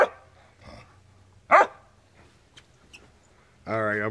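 A dog barks outdoors in snow, a few sharp separate barks with quiet gaps between, fairly close, with a low growl-like rumble underneath.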